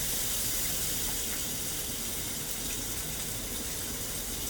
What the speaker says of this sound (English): I'm gonna rinse my hands